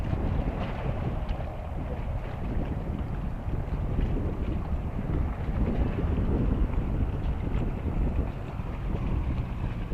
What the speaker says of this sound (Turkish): Rüzgar fazla.